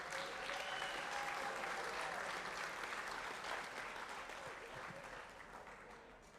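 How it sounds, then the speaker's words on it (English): A crowd at an athletics hall of fame induction ceremony gives sustained applause for the inductees, a full roar of clapping that holds steady and then slowly fades. "a massive round of applause for our first group of inductees tonight"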